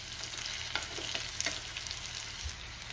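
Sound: stuffed green chilies frying as they are flipped in pan

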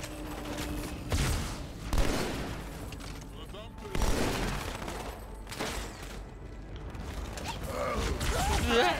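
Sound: explosion and gunfire in video game Halo 2

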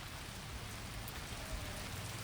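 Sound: heavy monsoon rain pouring at Malshej Ghat

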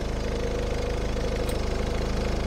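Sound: car engine running with high speed radiator fan

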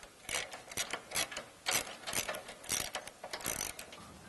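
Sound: ratchet with socket removing bolt by Jeep fuel tank

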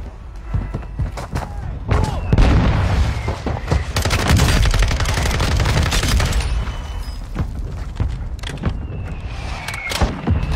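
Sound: mortar strike explosions and gunfire in a video game

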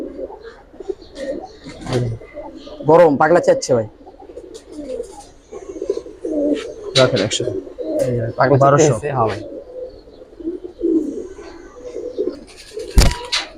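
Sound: pigeons cooing

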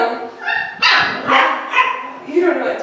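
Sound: doodle puppy barking

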